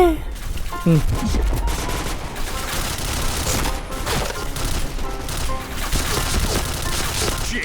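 Rapid gunfire with splashy water-burst effects in the online shooter Point Blank, dense crackling bursts and impacts packed together under game music and noise, with a voice briefly over it.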